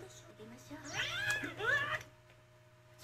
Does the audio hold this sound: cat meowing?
yes